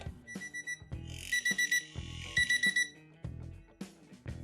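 An electronic vibrating alarm clock for the deaf, TS-8202, beeps in repeated rapid bursts of high tones over a soft rhythmic backing, close and fairly loud.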